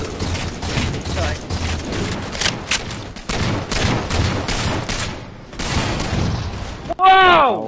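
Gunfire in a Halo 4 Infinity Slayer multiplayer match, with a sniper rifle among the weapons, sounding as a run of loud, sharp shots and booms under talking voices, ending in a brief mechanical sweep.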